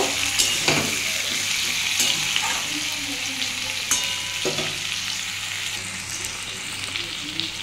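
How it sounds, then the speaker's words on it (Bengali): Potato, onion and pumpkin fry in a pan, giving a steady close sizzle broken by occasional stirring scrapes and clinks, with no talk. "কুমড়ো দিয়েও খানিকক্ষণ আমি ভেজে নেব।"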